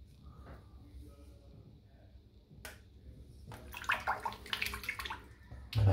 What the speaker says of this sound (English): just a little rinse in the water and it's crystal clear again